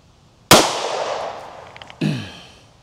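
A 9mm SIG P365 pistol fires a Federal HST 124 grain round into clear ballistic gel: one sharp, loud crack that decays slowly, followed by a second smaller impact-like bang after a brief pause.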